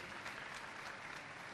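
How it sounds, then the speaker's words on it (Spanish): An audience at a Fuckup Nights talk in Bucaramanga applauds Carlos with a brief, even burst of many hands clapping, dense and steady, heard somewhat distantly. "Un aplauso para Carlos."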